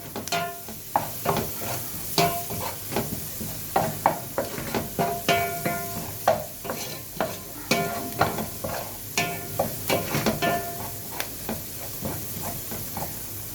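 Onions and garlic frying in a pan for meatless moussaka, a continuous sizzle and hiss with rhythmic scraping stirs and clacks recurring about once a second, close and without voices.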